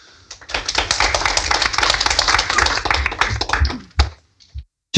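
A council meeting audience bursts into sustained clapping, dense and fairly loud, with many hands overlapping for about four seconds before it thins out and stops.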